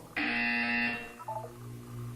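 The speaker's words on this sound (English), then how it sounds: "You will hear a buzzer. When you hear the buzzer, look down at the floor." Buzzer in the video game Portal 2, a single loud flat electronic buzz lasting under a second, followed by a quieter lingering hum and faint mechanical tones.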